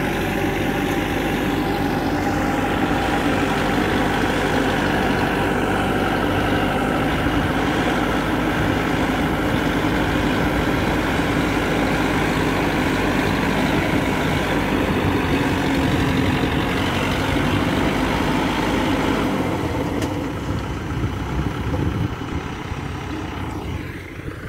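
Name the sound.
tractor engine running in a field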